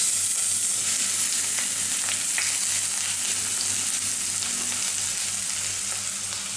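Thinly sliced onions fry in three to four tablespoons of hot coconut oil, giving a steady, close sizzle and crackle with faint stirring scrapes throughout, and no talking.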